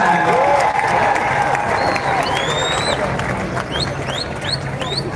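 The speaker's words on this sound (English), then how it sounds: "Please keep their applause going for the University of the Commonwealth Caribbean." At a ribbon-cutting for the Morant Bay Urban Center in Jamaica, an outdoor crowd applauds with cheering and scattered high whistles, a loud, dense wash of clapping with murmured voices mixed in.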